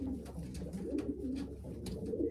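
Soft, repeated guttural coos from a medium Staff Van Riet racing pigeon with some Cassart blood, rolling low and fairly close against a faint background hum, no one speaking.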